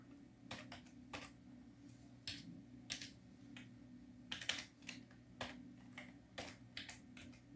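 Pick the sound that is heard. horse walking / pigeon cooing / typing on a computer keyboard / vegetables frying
typing on a computer keyboard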